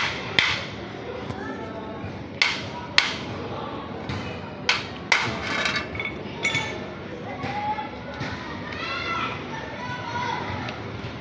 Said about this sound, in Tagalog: Pinupukpok niya, tinitignan niya kung kulang lang talaga sa pukpok.